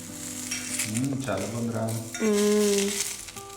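Chicken pan-frying on a stovetop gives a steady, close sizzle throughout, with brief stirring and utensil clinks and faint tonal sounds in the background.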